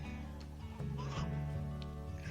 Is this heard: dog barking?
no